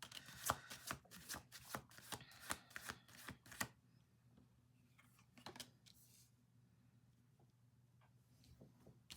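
Tarot cards are shuffled in a quick run of crisp riffling flutters and taps, close and quiet, followed by a few sparse card clicks against a faint background hum.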